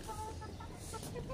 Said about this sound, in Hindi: मैंने ना अपनी मुर्गी का नाम चेंज कर दिया है, ये वजह का मैंने चेरी इसका नाम रख दिया।